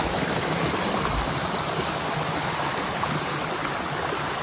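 A stream flows near a trail shelter along the Appalachian Trail amid rhododendrons, a steady, broadband rush of moving water that holds constant throughout with no voices.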